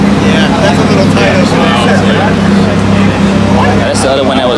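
Porsche and other cars idling and revving at a car show, a steady loud engine drone with harmonic hum throughout, mixed with crowd talk close by.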